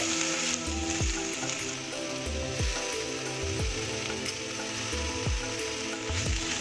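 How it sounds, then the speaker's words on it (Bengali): Salted banana stem frying in hot oil, a constant crackling sizzle with repeated metallic scraping sweeps from stirring at a regular rhythm, close up and without speech. "থোরটা আমি তেলে দিয়ে দিচ্ছি"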